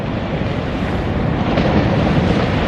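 Ocean surf breaking around a boat out at sea, a steady loud wash of water with wind buffeting the microphone and no speech.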